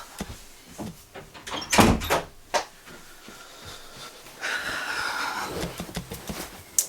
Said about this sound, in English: Kids haven't learned to shut a door yet.